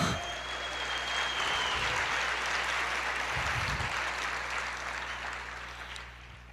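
A church congregation applauds during a sermon, a broad continuous patter of clapping that gradually fades toward the end, with a low steady hum underneath.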